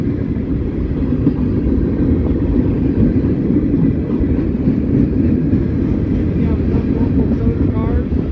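A Norfolk Southern mixed freight train with a Conrail locomotive rolls past in Elkhart, Indiana, a loud, steady low rumble of cars with faint clacking, and a voice speaks briefly over it.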